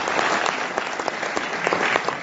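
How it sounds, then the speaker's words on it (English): An audience at a law conference claps steadily, a dense wash of hand claps filling the room with no voices over it. "sir really deserves a big round of applause"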